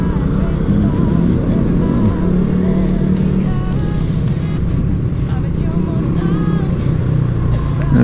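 Steady engine drone from a motorcycle riding along Araneta Avenue, continuous and close throughout, with road and wind noise and someone talking over it.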